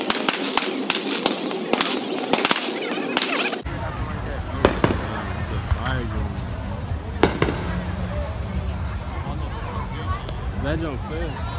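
Fourth of July fireworks crackle and pop in rapid bursts, then continue behind a lively crowd with people talking and calling out over the booming.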